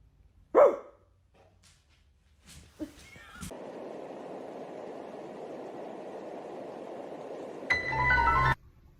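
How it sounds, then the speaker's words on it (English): A pet dog lets out one sharp, loud bark near the start, followed by scattered brief noises, a long stretch of steady hiss and a burst of rustling at the end. "Bark at your dog."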